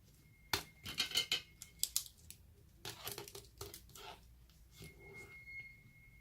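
Handwriting with a pen on paper, close and faint, a series of quick scratchy strokes in short bursts with brief pauses between them.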